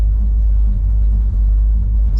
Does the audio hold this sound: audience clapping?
no